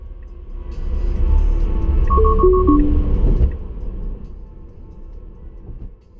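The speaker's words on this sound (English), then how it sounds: "That was a takeover immediately warning when the autopilot could not determine which lane to be in, which ramp to get on" A Tesla Autopilot takeover-immediately alert sounds inside the car as a quick run of rapid electronic beeps, followed by descending tones, over steady road rumble.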